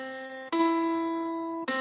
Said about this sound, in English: it sounds like this on a piano.